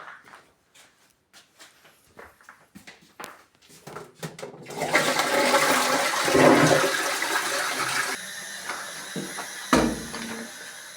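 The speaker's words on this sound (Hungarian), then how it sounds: "Lehúzni a WC-t? Jó, lehúzom." A household toilet flushes, preceded by a few clicks and handling knocks, then a loud sustained rush of water that gurgles and tapers into a refill hiss.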